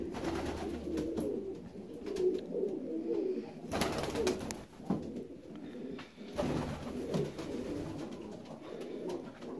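Fancy pigeons, including Saxon swallow-type birds, coo softly and repeatedly in a loft, with low rolling calls recurring throughout, and brief louder rustles or flutters breaking in twice.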